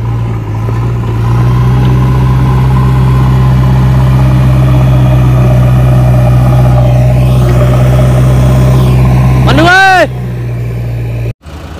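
A JCB 3DX backhoe loader idles with a steady, loud, low diesel rumble and hum that holds unchanged. Near the end a rising whine or squeal sounds briefly before the engine sound cuts off.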